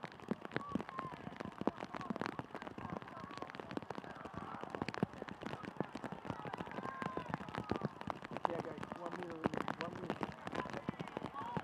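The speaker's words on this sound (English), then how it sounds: "Goal kick as the rain continues to fall, now heavier." Rain falls steadily and grows heavier over an outdoor professional soccer match between Miami FC and Louisville City FC, a faint continuous patter and hiss behind voices.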